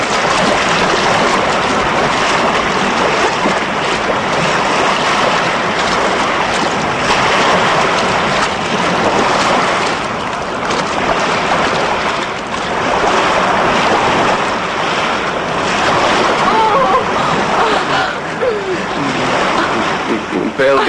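Steady broadband wash of Baltic Sea surf and breaking waves with wind noise across the microphone, continuous and loud throughout with slight swells in intensity and no clear gaps.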